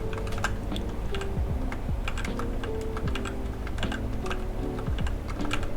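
Fast, uneven typing on a computer keyboard, a close clatter of many light key taps with brief pauses and no talking.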